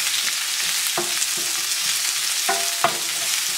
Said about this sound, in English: We're going to take our shallots, throw them right in there. Stir these up and let them cook.